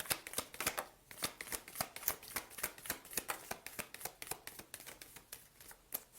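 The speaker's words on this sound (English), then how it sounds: "one more shuffle and I'll show you all the cards" Tarot cards being shuffled in a steady, rapid riffle of crisp flicking snaps, close and continuous for several seconds with no talking.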